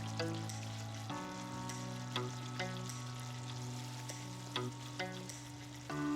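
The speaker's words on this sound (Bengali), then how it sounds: "পেঁয়াজটা ভাজা ভাজা হয়ে এসছে, আমি এখন এর মধ্যে মরিচ গুঁড়া এবং হলুদ গুঁড়াটা দিয়ে দিচ্ছি" Onions frying in a pan as chili and turmeric powder go in: a soft, steady sizzle with a few sharp clinks of a spatula or spoon against the pan, heard under a constant tonal background.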